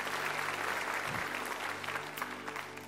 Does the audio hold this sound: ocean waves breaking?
no